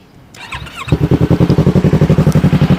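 A 2018 Yamaha YZF-R3 sport motorcycle engine cranks and fires up, then settles into a loud, close, steady pulsing idle with a rhythmic throb.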